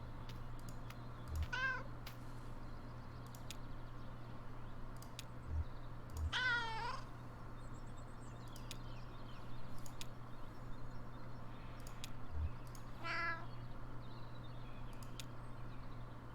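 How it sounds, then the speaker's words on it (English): A cat named Harlow meows three times, spaced apart over a quiet backdrop with a steady low hum and faint background noise. Each meow is clear and moderately close. "Fanciful meow."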